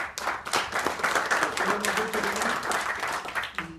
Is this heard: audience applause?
yes